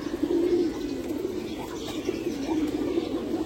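Pigeons coo in low, rolling murmurs that overlap and run steadily throughout, close by.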